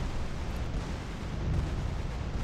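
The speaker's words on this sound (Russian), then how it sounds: "Мы стремительно летим вверх под взрывы гранатомета." Rumbling, broadband grenade launcher explosions in GTA San Andreas roll on continuously with no break, loud and dense like a steady barrage of blasts.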